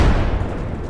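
A frag grenade blast in Apex Legends, a single loud boom at the start that decays into a rumbling, debris-filled tail within a second.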